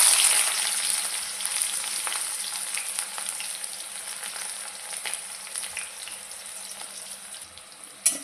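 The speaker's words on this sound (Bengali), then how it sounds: "তেলটা গরম হয়ে গেছে, এখন পেঁয়াজ কাটা দিয়ে দিতেছি।" Chopped onion hitting hot oil in a pan as fish is cooked, a bright, loud hiss and crackle that slowly eases in intensity over several seconds, with occasional spatters and no talk.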